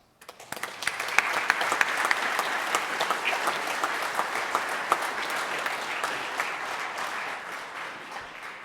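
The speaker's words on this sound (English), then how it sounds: "Give yourselves a hand for being awesome." Students at a Veterans Day assembly break into applause, clapping starting abruptly and holding as a full, steady crowd ovation that fades slightly near the end.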